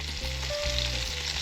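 Fish fries in a hot pan with a steady, dense sizzle and crackle, heard close up. Faint stirring or shifting sounds come through the frying, and there is no speech.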